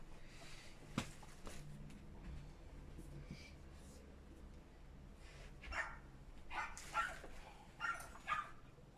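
Faint dogs barking and yipping at a dog groomer next door, a few scattered barks later on over a quiet indoor hum.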